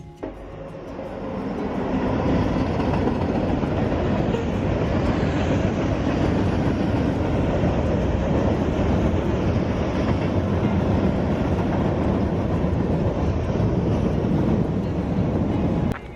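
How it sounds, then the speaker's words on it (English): A train rumbles by close overhead as someone walks beneath the tracks on the Arizona Trail, a loud, sustained roar with rattling and clacking that swells in and stays heavy for the whole stretch. "right when I was walking underneath the tracks, the train came by"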